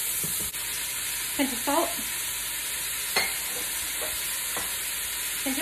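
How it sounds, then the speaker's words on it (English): A spoon scrapes browned bits off the bottom of a beef stew pan among frying onions, giving several distinct scrapes over a constant bright sizzle, with a brief spoken remark. "I'm scraping up all of those bits on the bottom of the pan to get with the onions."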